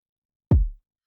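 A single kick drum hit processed with a 2:1 compressor, one deep booming thump with a quick attack and a short decay, heard alone and fairly loud.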